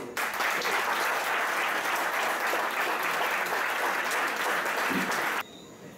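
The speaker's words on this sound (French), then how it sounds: "Je vous demande d'applaudir Eugène Nordel." An audience applauds Eugène Nordel at a French civic gathering, steady dense clapping held at a full, even level for over five seconds before cutting off abruptly into quiet room tone.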